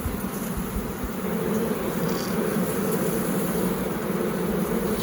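Honey bees buzz in a dense, steady drone at an opened beehive, close and continuous throughout, with no voices.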